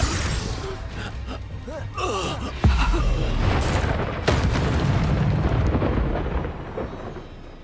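Fire spell blasts explode in a busy Hogwarts Legacy battle, several heavy booms landing a second or two apart over a dense, rumbling game soundscape with grunting and effects.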